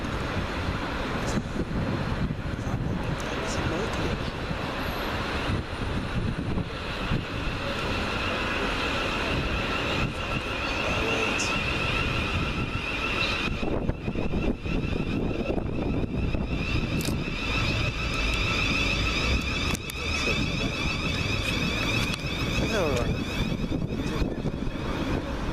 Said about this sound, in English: your final train of this video is 700-108, working the slightly delayed 1641 Govia Thameslink service from Brighton to Cambridge